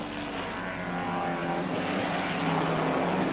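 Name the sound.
racing saloon cars, 5.7-litre V8 Chevrolet Camaro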